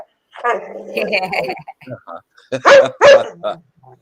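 A puppy yips and barks in a few sharp, close bursts after a stretch of soft whimpering, with people talking nearby in a home.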